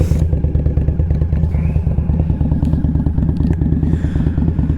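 An Indian Scout Bobber motorcycle engine runs close by with a loud, steady, lumpy idle and an even pulsing beat throughout.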